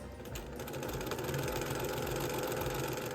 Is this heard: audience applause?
no